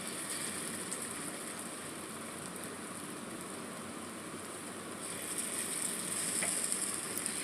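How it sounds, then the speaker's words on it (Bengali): Fritters of elephant foot yam leaves frying in oil in a wok, a steady dense sizzle and crackle running throughout, growing slightly louder toward the end, with no talk. "তেলের মধ্যে এবার এক এক করে বড়াগুলোকে ছেড়ে দেব।"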